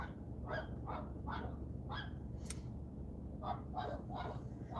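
Dogs being walked outdoors at night bark at each other in a series of sharp, evenly spaced barks, fairly faint and distant over a low background hum.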